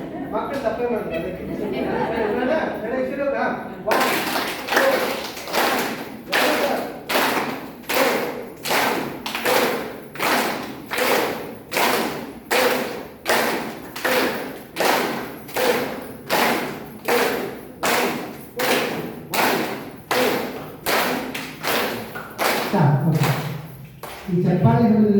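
A group in a yoga session claps together in a steady rhythm, more than twenty sharp, evenly spaced claps ringing out loud and close, with chatter before the clapping starts and a voice near the end.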